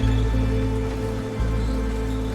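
Steady rain in the video game Pacific Drive patters and hisses continuously, with a low droning hum underneath and no voices.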